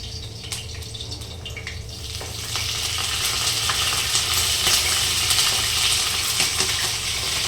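Garlic and curry leaves drop into hot oil in a home kitchen pan. A soft crackle swells after a couple of seconds into a loud, steady, close sizzle with fine popping.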